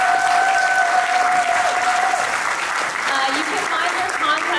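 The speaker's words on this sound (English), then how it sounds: "can we give an applause for this amazing guest?" Sustained audience applause for a guest at the close of an Asian women in real estate panel, a loud continuous crowd of clapping filling the room, with voices faintly mixed in.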